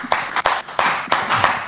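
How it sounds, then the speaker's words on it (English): A small group of people clapping in several short bursts, loud and close, with a brief pause between each round. "Clap for yourself."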